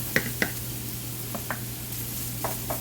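Potatoes and onions fry in a pan for a Mexican breakfast of papas con huevos y chorizo, a soft steady sizzle broken by a few spatula scrapes and taps against the pan.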